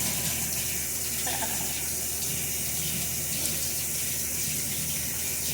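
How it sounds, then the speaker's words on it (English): Water runs steadily from a kitchen tap as hands are rinsed, a close, continuous hiss and splash into the sink with no break and no talking. "Rinse my hands."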